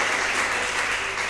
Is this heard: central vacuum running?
no